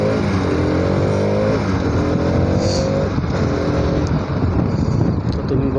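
A Bajaj Pulsar RS200 motorcycle rides through Nashik, its engine droning steadily and loud throughout with a sustained buzzing hum and slight pitch shifts, mixed with wind rush over the microphone.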